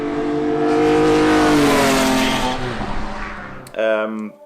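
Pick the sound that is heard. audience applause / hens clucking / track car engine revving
track car engine revving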